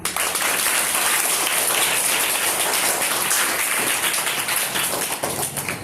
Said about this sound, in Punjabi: ਆਪਣੇ ਆਪ ਲਈ ਇੱਕ ਵਾਰੀ ਤਾੜੀਆਂ ਮਾਰ ਦਿਓ